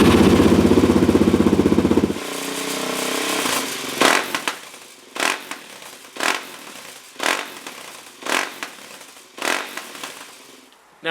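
A Suzuki DRZ400S dirt bike runs with a rough engine note for about two seconds, then cuts to a series of about eight loud, separate pops and backfires spaced roughly a second apart, close by and with no talk.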